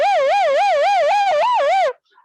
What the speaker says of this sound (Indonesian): Ambulan rumah sakit TKO Muhammadiyah ya.